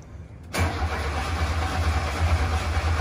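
A pink Camaro's engine cranks and catches after a brief quiet moment, then settles into a loud, steady idle with a deep low-pitched hum that runs to the end.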